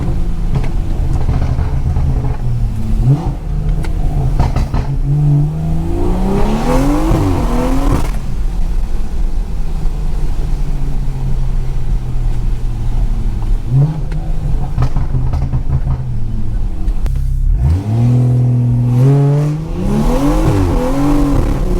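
A Stage 2 BMW car accelerates hard through repeated pulls, its engine revs climbing and dropping loudly and up close, with a brief tire chirp between bursts.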